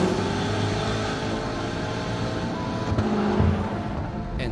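A Dodge Charger Hellcat Redeye emits a loud, dense, continuous engine roar that holds steady for the whole stretch, close to the microphone, with no talk over it.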